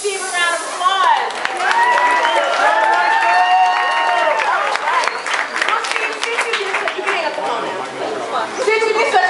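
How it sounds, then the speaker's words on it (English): Audience at a Disney show clapping and cheering, mixed with lively crowd chatter and excited voices over steady applause throughout, fairly loud and close. "Let's give Steve a round of applause"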